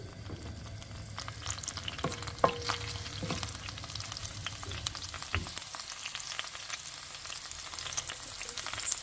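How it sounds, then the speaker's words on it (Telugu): Garlic, ginger and chillies frying on high flame for street-style Hakka noodles, a steady close sizzle with scattered crackles and a few scraping stirs, no talking. "గార్లిక్ జింజర్ చిల్లీస్ వేసుకొని చక్కగా వేయించుకోవాలి"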